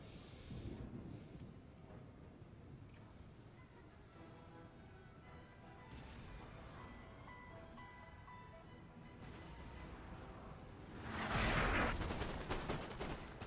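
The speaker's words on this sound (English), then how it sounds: "Oh, that was a good volley." Musket volley gunfire from the Napoleon Total War strategy game, with scattered distant shots through the battle noise and a louder crackling burst of massed fire near the end.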